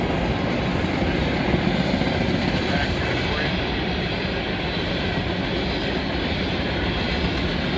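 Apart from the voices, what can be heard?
empty coal train passing, SD70ACU locomotive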